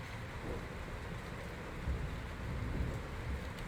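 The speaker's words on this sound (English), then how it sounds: "This storm is real." A storm in the Life is Strange video game: steady heavy rain with rolling, low thunder rumbling throughout, dense and continuous with no speech.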